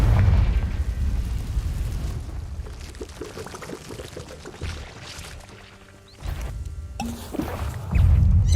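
Repeated Confringo fire-spell blasts in Hogwarts Legacy, heavy low booms and crackling bursts across several seconds, with a brief lull before a final loud burst.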